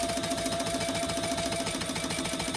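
Sewing machine running steadily while stitching around the outside of a lining overlay for a Kaplan pattern, a continuous fast mechanical whir with rapid regular needle pulses, close and unbroken throughout.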